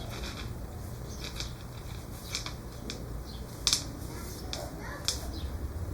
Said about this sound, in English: And use scissors to trim up the sticky parts that are sticking out